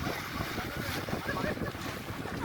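Steady wind roars and buffets across the microphone outdoors at a fishing spot in Saudi Arabia, a broad continuous rush with gusty swells and no clear voices.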